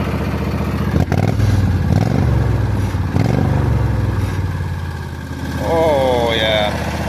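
A loud, unmuffled offroad tractor engine runs steadily throughout, harsh and clattering, with a voice speaking over it.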